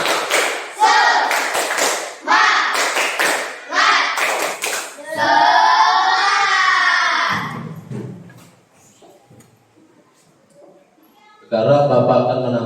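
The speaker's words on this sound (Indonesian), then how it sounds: "Coba sekarang kita tepuk semangat dulu." A school class performs a rhythmic spirit clap (tepuk semangat): several loud, close bursts of patterned hand claps, then a stretch of group chanting. After a near-silent pause, a voice speaks.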